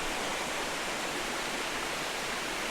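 Holden Clough waterfall pouring steadily outdoors, a dense, unbroken hiss of falling water with no talk, heard close and at an even level throughout.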